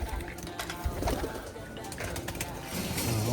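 Pigeons kept as speed birds, including pure white and grizzle birds, coo low and intermittently among steady background noise, with a voice talking nearby.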